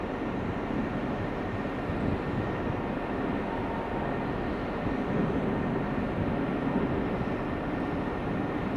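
A steady, low rumbling roar like a distant airplane passing high overhead, continuous and broadband with no voices.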